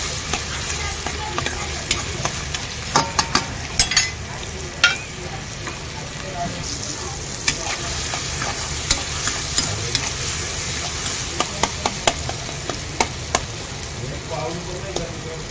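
Tomatoes cook with salt in a pan for a fish curry, sizzling steadily and close, with regular scrapes and taps of a spoon stirring against the pan.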